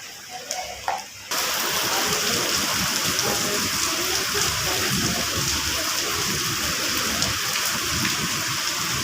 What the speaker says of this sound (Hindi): ओले भी आ रहे बेटा